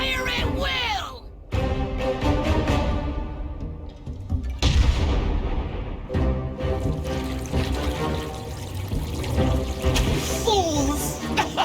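Battle scene from World of Warcraft with heavy artillery fire, booming blasts and crashing impacts mixed with game sound effects, loud and dense, with voices talking over it.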